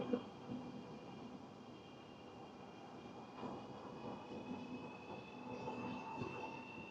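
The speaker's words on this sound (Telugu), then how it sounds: "ట్రైన్ మూవ్ అవుతుంది" A Chinese high-speed bullet train pulls away from Changsha railway station, a steady low rumble of wheels and rail with faint high tonal whines building gradually, heard from inside or close by.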